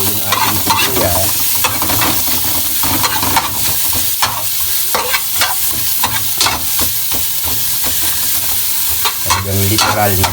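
Onions sautéing in a pan for chop suey, a steady close sizzle and crackle of frying with repeated scraping and stirring strokes throughout, no voices.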